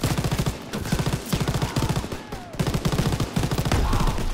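Rapid bursts of gunfire in a Call of Duty WWII battle, loud and close, rattling in quick rhythmic volleys for several seconds with almost no pauses.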